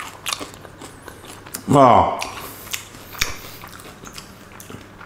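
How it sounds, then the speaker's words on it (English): A single loud crunchy bite into a stuffed mushroom topped with crisp breadcrumbs and garlic butter, close up, followed by quieter chewing, with a brief exclamation from the eater. "And these breadcrumbs, they are nice and crunchy."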